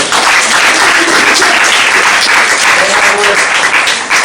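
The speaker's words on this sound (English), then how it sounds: "we need to give these wonderful people up here a huge round of applause" Steady, dense applause fills a room as an audience of trainees claps together for the organizers of a spring training session, continuous and loud with no pauses.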